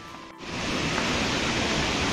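Kempty Falls in Mussoorie, Uttarakhand, sends up a loud, steady roar of rushing water that swells in within half a second and then holds as a dense, unbroken wash.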